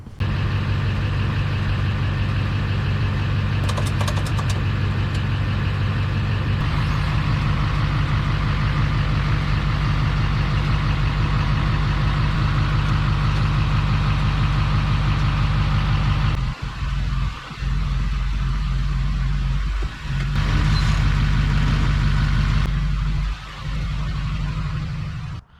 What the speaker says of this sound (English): We'll get a tire and just use my truck and see if we can push it in.